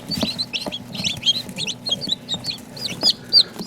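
Small bantam Cochin chicks with feathered feet, huddled together, cheep and cluck in rapid high-pitched peeps with soft scratching and bumps, close and continuous.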